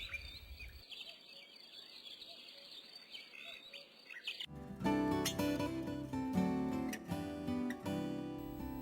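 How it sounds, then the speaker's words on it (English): Before dawn, a small bird twitters with bright, quick chirps over a faint insect trill, then a fuller, denser chorus of chirping swells in. "The courting song of a male cricket whispered in the gentle breeze as a little bird twittered blissfully."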